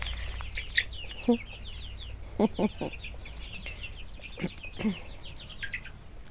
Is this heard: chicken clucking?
yes